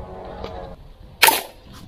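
A single firecracker bursts with a sharp, loud broadband crack near the middle, set against quiet outdoor background with a faint earlier pop.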